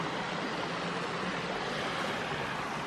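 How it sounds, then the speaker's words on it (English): Two small forest streams meet in a steady, close rush of flowing water, an even broadband wash with no pauses and no talking. "I'm here at the junction of these two little streams."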